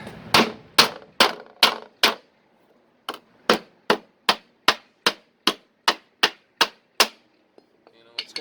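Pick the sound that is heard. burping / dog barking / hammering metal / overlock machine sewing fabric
hammering metal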